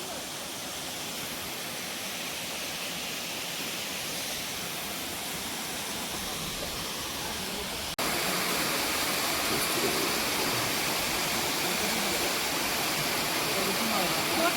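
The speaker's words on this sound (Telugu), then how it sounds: "ఇది చిన్న వాటర్ ఫాల్ అనుకుంటా." Steady rushing water of a small forest waterfall in the Maredumilli area of Andhra Pradesh fills the scene, a continuous close roar that grows slightly louder partway through.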